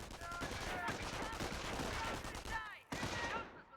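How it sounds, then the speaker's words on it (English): An MG-42 machine gun in Company of Heroes fires continuous, dense bursts close and loud for almost four seconds, with a brief gap near the end before the firing resumes. "Your squad is taking enfilade fire from that MG."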